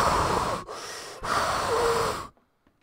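Heavy, loud breathing from a character in a Roblox horror game, three long rasping wheezy breaths with brief pauses between them, close and alone, ending in near silence.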